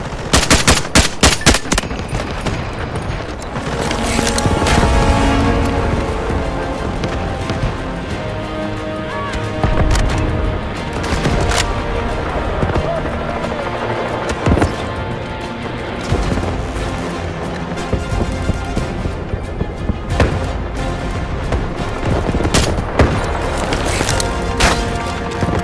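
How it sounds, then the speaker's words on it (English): Artillery barrage and gunfire in the Delta Force video game: loud, dense bursts of automatic fire and repeated heavy explosions pound continuously through the whole stretch, close and overlapping. "Artillery barrage incoming"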